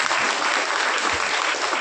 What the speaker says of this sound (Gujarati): તાળી પાડીએ ને તાળી એ તાળી અવશ્ય દરેકે પાડવી જોઈએ